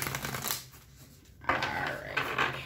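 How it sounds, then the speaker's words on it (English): Tarot cards being shuffled by hand, a burst of papery riffling and slapping up front, a brief lull, then a louder stretch of card shuffling near the end, close and alone. "One more shuffle, guys."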